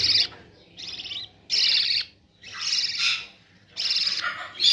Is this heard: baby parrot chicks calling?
yes